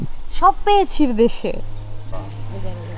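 Crickets at a hill resort in Sajek give faint, high, evenly pulsed chirps that emerge clearly after a short stretch of someone talking, continuing steadily in the background.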